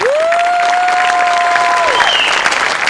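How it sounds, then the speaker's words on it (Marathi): A studio audience at a Marathi comedy show applauds with steady, close clapping, while a tonal sound effect slides up and holds over it. "तुझ्याकरता जोरदार टाळ्या"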